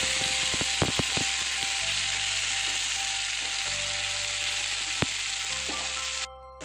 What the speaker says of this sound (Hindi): गार्लिक, टमाटो, इसे अच्छे से हम सॉटे करेंगे।